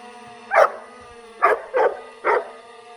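A dog barks four times close by, one sharp bark followed by a quick group of three, over a steady background hum, with no talking.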